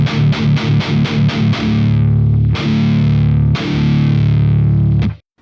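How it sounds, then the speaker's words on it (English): A heavily distorted electric guitar plays a tight palm-muted riff: quick chugging notes, then a few longer sustained hits ringing out before cutting off. "I absolutely love palm mutes"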